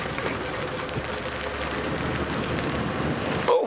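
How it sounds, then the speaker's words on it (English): Steady rain falls in an outdoor wildlife setting, a soft continuous hiss of drops with a faint low engine hum beneath, no voices. "here comes the rain again."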